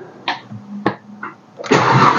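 A grey car's engine is started after its battery is reconnected, with a few short cranking bursts followed by the engine catching and settling into a steady, loud running roar on choke.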